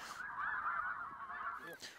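A flock of snow geese honks steadily for about two seconds, a dense, continuous chorus of calls at moderate distance outdoors during a hunt, with no talking over it.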